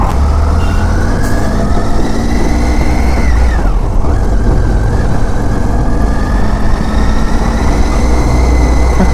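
A passing train heard from a motorcycle on the Baharampur bypass road, a loud, constant rumble and roar of engine and wheels that holds steady throughout with a faint horn-like tone.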